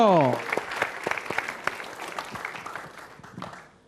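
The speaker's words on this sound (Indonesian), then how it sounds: "Adriano, tepuk tangan untuk Adriano" Studio audience at a stand-up comedy battle on television applauds for a comedian; scattered, moderately loud clapping follows a brief voice at the start and gradually fades out.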